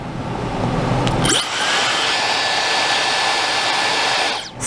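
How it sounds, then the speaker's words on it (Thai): A Dyson hair dryer, the priciest of three models compared, switches on after about a second and runs with a loud, steady, high-pitched whirring roar that holds constant until the end. "เดี๋ยวเราจะหยิบตัวของไดสันที่แพงที่สุดของไดเป่าผมทั้งหมด 3 ตัวเนี้ยมาทดสอบเสียงกันก่อนค่ะ"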